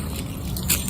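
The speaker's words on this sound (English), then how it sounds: "Gotta take my keys out." A set of keys is pulled out of a pocket outdoors, just before a tree climb, giving a brief close metallic jingle over a steady low background rumble, with no talking.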